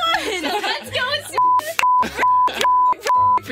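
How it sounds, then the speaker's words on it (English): Sharp, steady censor bleeps repeatedly cut into spoken dialogue in the Seduce Me game episode, with four or five loud tones alternating with bursts of talk. "beep, beep."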